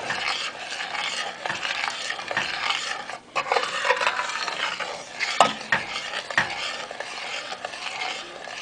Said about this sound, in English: now what you want to do is just stir that sugar right into the butter